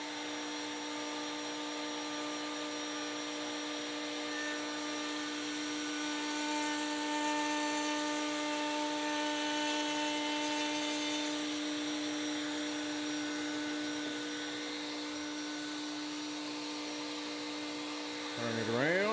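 An Onefinity Elite CNC router cuts a bevel in wood for a half-lap memorial cross, its steady high whine and tonal hum continuing loudly and evenly throughout, with a rising pitch sweep near the end.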